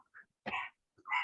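A small dog barks a few short, sharp times indoors, faint and spaced apart, with quiet gaps between the yaps.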